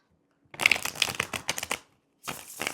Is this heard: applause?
no